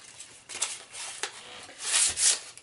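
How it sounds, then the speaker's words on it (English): Sandpaper rubbed on a wooden axe handle during an axe restoration, several close rasping strokes of uneven length, the final ones longer and louder, no talking. "So take some sandpaper."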